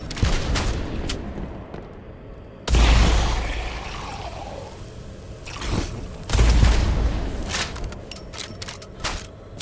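Gunshots fired at a cockroach in the video game Blood West ring out as loud booming blasts, two heavy reports a few seconds apart with echoing tails, amid sharper clicks and game noise.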